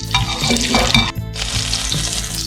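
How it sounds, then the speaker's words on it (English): Onion seed (kalonji) with julienned garlic and ginger hitting hot oil in a pan for a Brussels sprout and courgette subzi, giving a loud, steady sizzle with a brief dip partway through, no talking. "So I put onion seed. Kalonji is onion seed. Throw in some garlic and ginger julienne."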